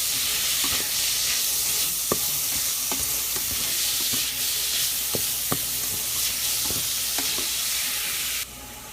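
Vegetables for Missouri-style jambalaya sautéing in a pan, with a steady bright sizzle and recurring spoon or spatula scrapes and taps as they are stirred, fairly close and continuous, with no talking.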